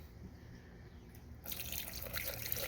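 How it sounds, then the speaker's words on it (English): Acetone poured onto a dead lawnmower's carburetor, a soft trickle that swells into a steady, close splashing pour for the last second or so, with no talking. "So I'm going to pour some acetone in here."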